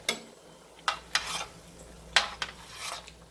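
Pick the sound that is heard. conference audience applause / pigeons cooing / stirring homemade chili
stirring homemade chili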